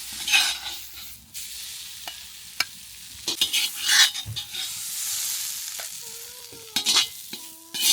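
Fried masala scooped into a mixer jar, scattered close scraping and clinking of a spoon against the pan and jar with a light sizzle between the knocks, no voices.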